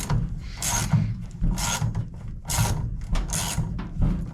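Hose clamps being tightened on a truck fuel hose, giving a repeated scraping, ratcheting mechanical sound in four or five rhythmic bursts, close up with no talking.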